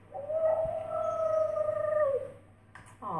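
An overweight dog with a thyroid condition gives a drawn-out, bird-like whistling howl, a single sustained wavering tone heard up close, followed by a brief quieter yelp.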